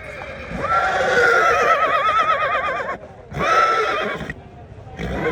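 A horse gives two loud, close whinnies at a Punjab gathering of well-known horses. The first is long and wavering, and the second is shorter and follows after a brief pause.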